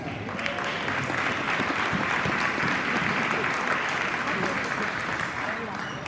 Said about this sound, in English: A round of applause for the Stingrays.